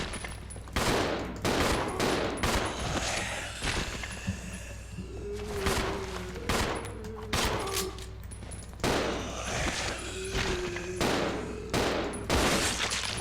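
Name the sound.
gunfire at zombies in the video game Resident Evil 0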